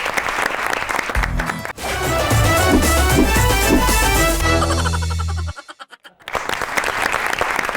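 A studio audience applauds for a singer on a talk show, a loud, sustained burst of clapping with music, dropping out abruptly before resuming.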